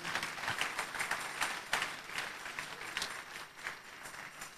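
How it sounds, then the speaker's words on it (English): Church congregation clapping together at a women's thanksgiving Sunday service, a steady run of many overlapping hand claps at moderate distance, carrying on evenly without speech. "Let's clap for Jesus."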